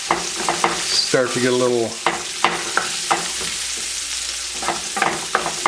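Onions sautéing in oil in a pan over lowered heat give a soft, continuous sizzle with occasional stirring, running beneath a man's nearby speech.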